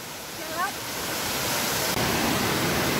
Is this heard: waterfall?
yes